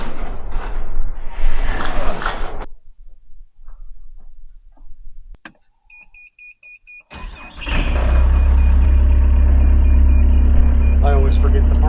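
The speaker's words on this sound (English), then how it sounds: "we'll get the skid loader out and get the attachment changed on it" A skid loader's engine starts up after some thumps and shuffling, then settles into a loud, steady low rumble close by, with a voice talking at the start.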